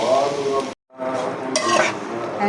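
Vermicelli frying in a pan for jaggery semai, a loud, dense close-up sizzle with stirring scrapes and clinks of a utensil against the pan, cut by a brief silent gap before resuming.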